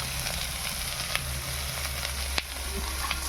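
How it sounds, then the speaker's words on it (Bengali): Pointed gourd and soybean frying in oil with salt and turmeric, giving a steady, dense sizzle with occasional sharp crackles and spatters. The sound is fairly close, continuous and unaccompanied by speech. "এরপরে আমি পটল আর সয়াবিনটা ভেজে নেব। নুন হলুদ দিয়ে আমি ভেজে নেব।"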